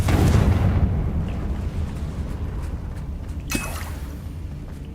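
A Confringo fire spell in the Hogwarts Legacy video game goes off as a heavy, rumbling explosion. The blast is loudest at the start, then a low roar holds and fades slowly, with one sharp crack partway through.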